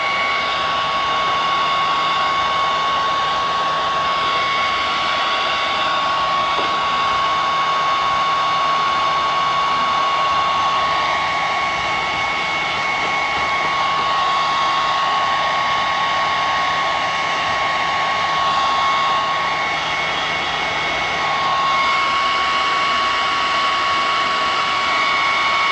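A heat gun shrinks heat-shrink tubing over wiring during a fish-finder battery and power install, giving a steady, loud, close blowing whir that runs unbroken with no talk.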